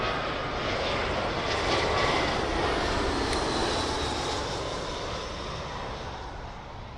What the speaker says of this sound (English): Here's the Belgrade Air Serbia 319